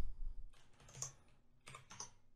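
Quick, quiet bursts of keys clatter on a computer keyboard at close range, a few short clusters of typing with brief pauses in between.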